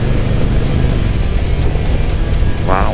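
A Harley-Davidson Road Glide motorcycle gets on the throttle while cornering, its engine drone rising steadily under wind noise, with a short voice-like sound near the end.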